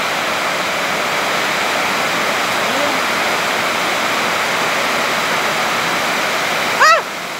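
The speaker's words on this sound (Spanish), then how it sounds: "Está la tormenta bien fuerte." Loud, steady roar of pouring water from a heavy thunderstorm on a ranch, continuous and close, with a brief squeaky sound near the end.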